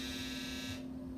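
End-of-round buzzer in the video game Call of Duty Black Ops 3, a loud steady electronic drone held for about three quarters of a second before cutting off, with continuous game noise beneath it.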